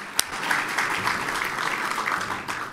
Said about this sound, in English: let's make sure we give them a huge round of applause